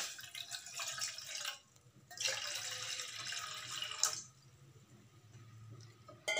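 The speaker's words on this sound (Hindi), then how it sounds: "इसमें पानी ऐड कर रहे हैं।" Water pours steadily from a tap into a pan for jaggery masala chai, a close, hissing splash that pauses briefly and then resumes, with no talking.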